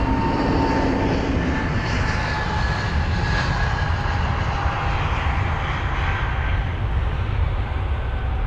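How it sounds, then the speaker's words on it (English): An Airbus A320neo jet roars on departure at London Heathrow, a loud, broad engine blast heard close up that holds steady, then slowly fades and thins as the aircraft moves away, with no talking. "that's going to get a nice sort of blast in the face of air because of this 320 Neo"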